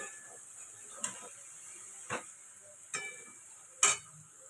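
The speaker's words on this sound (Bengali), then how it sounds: "এটাকে আবার আমি ভালোভাবে কষতে থাকবো।" Curry being sautéed and stirred in a pan while fish fingers are made, four sharp scraping stirs spaced about a second apart over a steady soft sizzle, fairly quiet and close.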